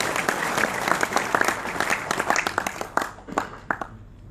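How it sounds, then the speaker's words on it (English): A roomful of people at a school alumni association gathering give a round of applause, individual claps clearly audible, the clapping thinning out and fading toward the end. "we'll just give him a round of applause in his absence anyway"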